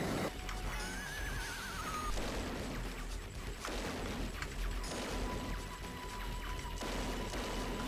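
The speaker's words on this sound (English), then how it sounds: "I don't know why the pickup sound is a horse" Horse neigh used as a power-up pickup sound in an arcade shoot-'em-up, a whinny rising amid dense game noise of rapid gunfire, explosions and clattering effects, loud and continuous throughout.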